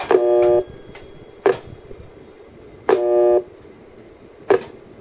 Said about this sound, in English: That's the tone applier.